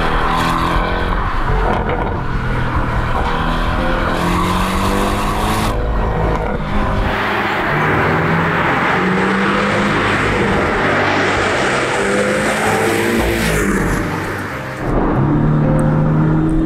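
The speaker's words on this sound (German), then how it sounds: "aus diesem turbogeladenen 2-Liter-Motor noch mit richtig Drehmoment" A Porsche 718 Cayman with a turbocharged 2.0-litre four-cylinder under way, its engine droning loudly and rising through the revs, with gear changes and shifting road and wind roar throughout.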